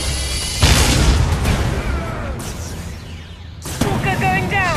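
A heavy ion cannon strike in the C&C Rivals strategy game booms out loudly, with a long roaring explosion and rumbling debris that swell and fade across several seconds, followed by further blasts amid game unit voice lines.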